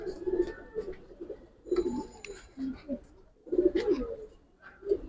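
Several pigeons coo nearby in repeated short phrases with brief pauses between them, fairly clear against a quiet background.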